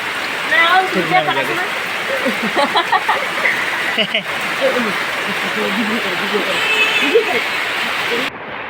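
A steady roar of pouring rain fills the air, with people speaking over the downpour.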